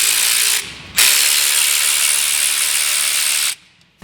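A ratchet wrench works loose the 8mm bolt that holds the speed sensor harness on a 2000 Ford F350 diesel during a front wheel bearing job. It gives a loud, close, steady clicking run of about three seconds after a short first burst, with no talk.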